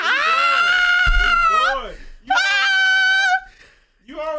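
A man screams in long, drawn-out, high-pitched bursts, loud and close, with a brief thump partway through and a shorter cry at the end.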